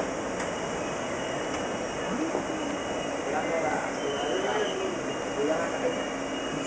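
At a train station, a continuous rumbling rail drone fills the air with faint metallic squeals, while muffled voices murmur in the background.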